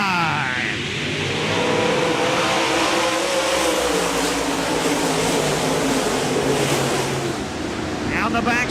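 USMTS dirt-track race cars at Park Jefferson Speedway take the green flag, their engines roaring loud and continuous as the field accelerates, while an announcer talks over the din.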